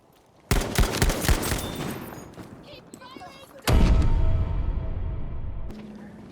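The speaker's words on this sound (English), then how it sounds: "we have got the Type 97 machine gun from the support class" A Type 97 machine gun firing in Battlefield V: rapid bursts of automatic gunfire, then a heavier sustained roar of shots and blasts that trails off, loud and close.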